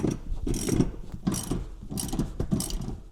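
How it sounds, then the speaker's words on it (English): A socket ratchet with a 15mm socket loosens seat nuts inside a 2005-2009 Ford Mustang, giving about four quick, rhythmic bursts of close clicking. "you can get a 15mm socket on these two nuts back here to remove them"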